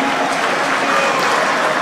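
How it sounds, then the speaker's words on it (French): Loud, steady applause from an audience at a French-language ceremony where regions of Congo such as Grand Kivu are being hailed, a dense continuous clapping that fills the whole moment with no voices over it. "est-ce qu'on peut bien applaudir pour le Grand Kivu?"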